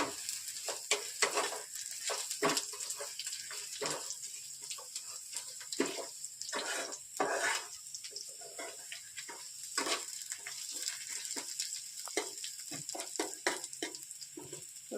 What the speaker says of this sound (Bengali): রসুনটা যখন এরকম লাল লাল ব্রাউন কালারে ভাজা হয়ে যাবে